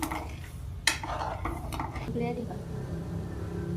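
Sweet potato kheer with sugar being stirred in a pot, a spoon scraping and clinking against the metal in an uneven run of knocks, one sharper clank standing out, with steady kitchen background noise.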